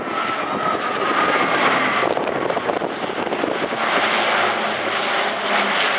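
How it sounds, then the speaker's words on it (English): Italian Air Force Alenia C-27J Spartan propeller cargo plane flying a display at an air show, a loud, sustained engine drone that swells and shifts, with rushing wind noise on the microphone. "Spartan is the only cargo aircraft in the world capable of performing vertical maneuvers"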